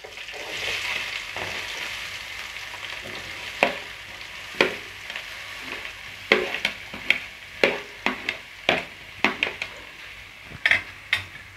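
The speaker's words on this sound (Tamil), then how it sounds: "வெங்காயம் நல்லா கோல்டன் ஃப்ரை ஆகிற வரைக்கும் வதக்கி விட்டுட்டே இருங்க" Onions, dried and green chilies and curry leaves frying in oil in a pan for tomato rice, a soft hiss beneath a run of sharp spatula scrapes and clinks that quicken toward the end, close up.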